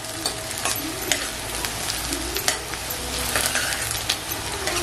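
Garlic sizzles steadily in a hot frying pan, with a spoon stirring and scraping in short clicks over the constant hiss.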